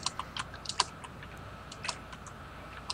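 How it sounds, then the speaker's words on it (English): Rapid, irregular clicking of keys on a computer keyboard, fairly close but low in level, with a steady background hum and no talking. "Who the fuck is typing over there"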